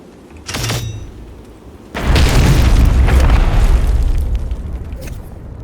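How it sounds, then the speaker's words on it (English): A short burst is followed by a loud, rumbling video game explosion in the strategy game Heart of the Machine that roars for a few seconds and slowly fades, with a heavy low-end boom. "Saw some explosions there."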